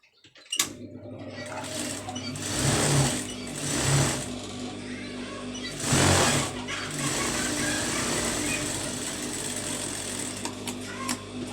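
A sewing machine stitches a saree border onto a plain blouse sleeve in several loud, whirring runs of a few seconds each, separated by quieter pauses, close up and with no talking.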